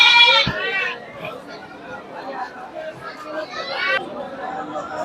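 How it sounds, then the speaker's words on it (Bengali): A cross-breed mother goat and her kid bleat at a busy livestock market, with sharp calls at the start and again near the end over steady crowd chatter. "এক ভাই দেখা যাচ্ছে একটা মা বাচ্চা ছাগল নিয়ে যাচ্ছে"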